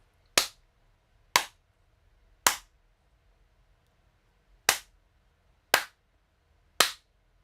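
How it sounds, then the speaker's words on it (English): Six single hand claps about two feet from a Schoeps boom microphone indoors, each crisp and isolated, spaced unevenly with quiet gaps between them. "So this is me clapping at roughly about 2 feet away from the microphone."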